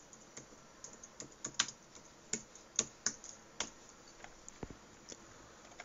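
A name is typed on a Mac computer keyboard: light, irregular key clicks and taps in short bursts, close and fairly quiet.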